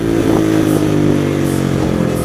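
A Kuba NK150 motorcycle engine idling and revving with its stock exhaust, a steady close-up throbbing drone with slight rises in pitch.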